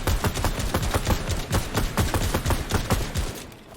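Rapid automatic gunfire rattles in a battle royale video game, a dense run of sharp shots in quick rhythm, close and loud before tapering off at the end.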